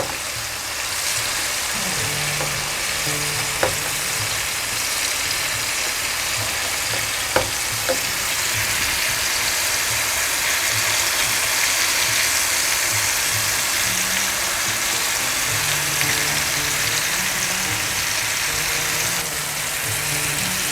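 Mushrooms frying in butter in a pan, a continuous soft sizzle with a few light clicks of stirring, steady and close with no talking.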